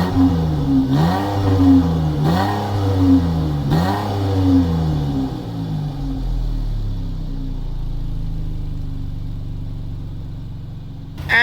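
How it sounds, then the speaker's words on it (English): A high-mileage 2014 Chrysler 300 with a 3.6 liter engine is revved up close, with three sharp rising and falling revs before it settles into a steady idle. "engine sounds pretty good considering the age and miles"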